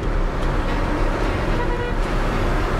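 A vehicle overtakes on a bend, heard as a continuous loud road and engine rumble with faint brief tonal touches, from inside a slow converted camper truck on a Guinean road, with no talk.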